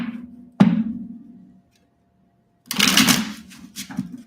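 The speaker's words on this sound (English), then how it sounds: "Leo, two more shuffles." A sharp riffle of cards snaps once, falls quiet, then a second longer flurry of card shuffling rattles close by.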